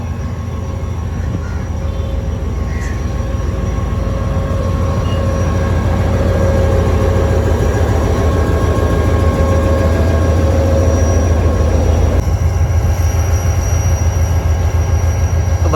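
The 11 Up Hazara Express pulls out of Drigh Road railway station with a steady, loud low rumble of wheels and heavy engine that holds evenly throughout, with no voices over it.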